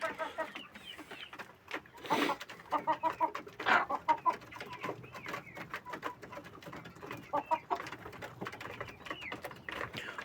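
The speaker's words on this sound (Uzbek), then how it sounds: "endi bu tomondagi jo'jalarni ham ko'rsatib o'tsak, jo'ja emas, ular ham katta bo'lib qolgan" Chickens cluck and call in a repeated, uneven chorus at close range, with short bursts of activity and a few sharp sounds between them.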